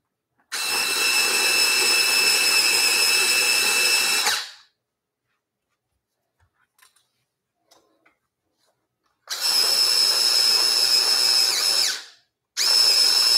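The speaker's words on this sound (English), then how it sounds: "So far, they do not like the electric sharpener." An electric sharpener grinds pastel sticks in two long bursts of about four seconds each, a loud high whirring buzz, with a near-silent gap between them and a third burst starting at the end.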